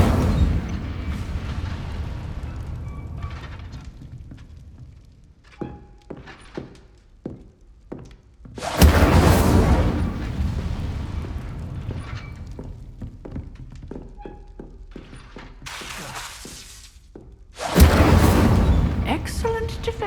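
Fiery Incendio spell blasts in Hogwarts Legacy erupt as loud, broad bursts, two big surges separated by quieter stretches of scattered thuds and impacts.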